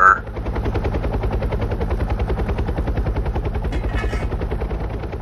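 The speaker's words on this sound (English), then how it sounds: "Air ambulance landing on the freeway, and all traffic is already stopped." An air ambulance helicopter lands on a freeway where traffic is stopped, its rotor producing a loud, rapid, even chopping pulse that runs continuously through the whole clip, close by.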